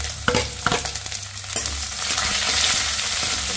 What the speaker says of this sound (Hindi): प्याज को जो है थोड़ा सा फ्राई कर लेंगे।